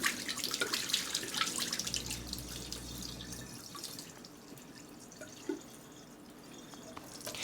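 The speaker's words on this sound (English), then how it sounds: "I wanted to show it over here draining." Water drains from an LG washing machine, running and dripping faintly at a distance with a soft trickle and a brief low hum partway through, with no talking.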